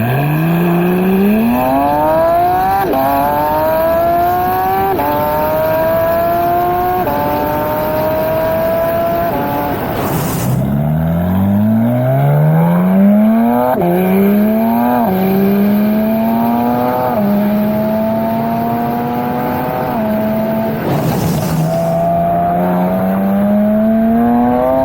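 Loud aftermarket exhaust on a Porsche 992 GT3 revving hard through repeated upshifts on a highway, each gear climbing sharply in pitch before a brief drop, close and continuous.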